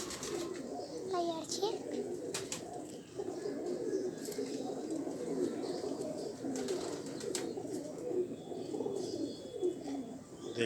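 A flock of loft pigeons in Faisalabad keeps up a low, rolling cooing, steady and close, with scattered higher chirps and light rustling as a person speaks now and then over them.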